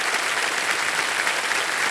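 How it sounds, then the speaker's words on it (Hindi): A studio audience at a televised game show bursts into loud, dense applause, a continuous close wash of clapping filling the whole short moment with no talking over it. "इसके लिए जोरदार तालियां।"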